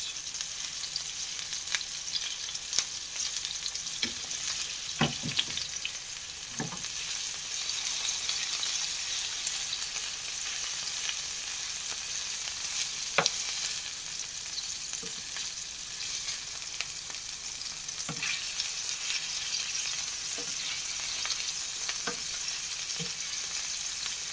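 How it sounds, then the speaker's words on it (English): Meatballs fry and brown in a pan with a steady, close sizzle, broken by occasional sharper crackles and pops. "as you can see, the meatballs are browning off now"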